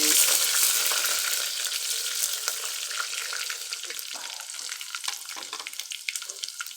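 Mustard seeds and cumin sizzle and crackle steadily in oil in a pan, with bright hissing and scattered small pops, close by and fading slightly over time.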